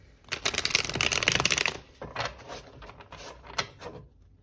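A deck of tarot cards is riffled and shuffled in a burst of dense, crisp flutters for about a second and a half, followed by softer scattered taps and slides as the cards settle, close and clear with no talking.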